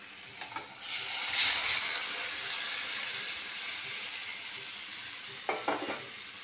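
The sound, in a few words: fish curry broth added to masala, boiling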